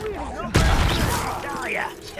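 A Confringo fire spell explodes in Hogwarts Legacy, a sudden loud blast that erupts and roars on in a broad, rumbling burst, fading slightly over a couple of seconds.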